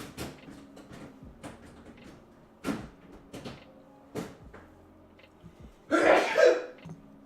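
In a home kitchen during crepe-making, faint clinks and bumps give way to a single sharp, loud sneeze burst near the end.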